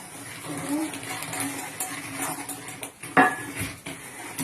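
Flour being stirred into a pot on a home kitchen counter, with metal utensils scraping and clinking against the pot, a sharp clank near the end, amid light background noise and a voice.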